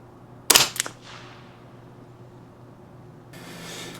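A single close, sharp crack of a Ruger 10/22 rifle shot at a precision range, with a quick echo tail fading into quiet, followed by faint rustling.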